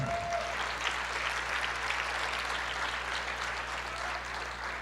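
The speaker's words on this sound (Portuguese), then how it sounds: "Pode aplaudir." A church congregation applauds steadily for the whole stretch, a dense wash of clapping hands filling the room at moderate volume, with a faint low hum underneath.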